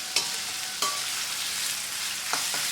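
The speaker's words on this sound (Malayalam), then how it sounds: "ഇഞ്ചി നന്നായിട്ട് വറുത്തെടുക്കണം" Ginger frying in oil over a medium flame, a steady soft sizzle with a few brief utensil stirring clicks, close and alone without talk.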